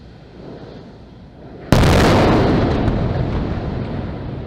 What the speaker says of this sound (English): Gases explode, okay?